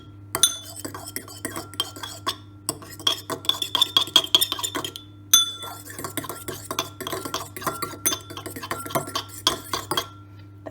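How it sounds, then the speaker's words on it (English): A fork beats eggs in a bowl for muffin batter, making a quick, steady run of close metallic clinks and scrapes with a brief pause or two between spells of whisking. "So I'm going to mix the eggs until I can't see the yolk anymore"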